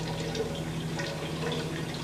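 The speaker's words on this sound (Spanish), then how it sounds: "El agua fluye de un tanque a otro a cierta velocidad." Water running steadily from one tank into another, a continuous faint trickling flow with light dripping texture and no voices.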